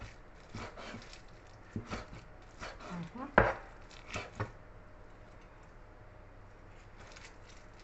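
Knife chopping on a cutting board while preparing spinach soup with prawn, a quiet run of uneven taps with one sharper cut in the middle, then the kitchen falls nearly still.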